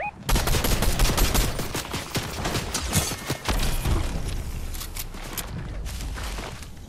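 Rapid gunfire in Fortnite, a dense fusillade of sharp, close shots in quick succession, briefly pausing then resuming before tapering into scattered fainter shots and movement, with no talking.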